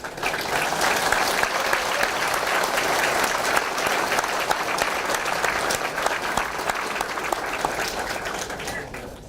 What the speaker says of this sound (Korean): 믿음과 격려의 힘찬 박수로 서로 인사부터 나누십시다